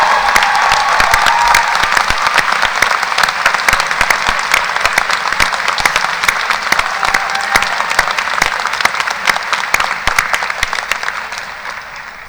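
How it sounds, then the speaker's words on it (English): Sustained applause from the audience at the Fall 2016 ArtCenter graduation ceremony honouring the faculty, a dense wash of many hands that is loud and even throughout and tapers slightly at the end. "please join me in a round of applause in acknowledgement of our faculty and their crucial contribution to the educational process"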